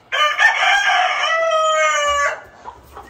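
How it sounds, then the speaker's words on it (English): A single rooster crows loudly and close by, one long drawn-out cock-a-doodle-doo lasting about two seconds, followed by quiet. "If the roosters can keep their crowing to a minimum."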